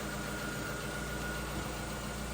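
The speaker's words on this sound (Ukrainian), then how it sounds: "Зараз ми заведемо нашу тачечку." A 2011 Opel Corsa D car idles just after being started, giving a steady, even engine drone that holds constant at moderate loudness, with no other sound rising above it.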